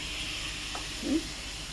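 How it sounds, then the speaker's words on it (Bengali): Onion frying in a pan makes a continuous close sizzle and hiss, with a faint stir or scrape near the end and no talking over it. "এবার পেঁয়াজটা আমার ভাজা হয়ে গেছে।"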